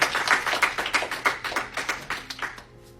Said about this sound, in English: give the Lord a hand clap of praise this morning